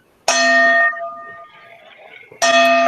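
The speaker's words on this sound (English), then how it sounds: "Listen to the sound of this Tibetan chiming" A Tibetan chiming bowl made of seven precious metals, struck twice: a bright, sustained metallic ring that decays slowly, then a second strike about two seconds later, loud and close.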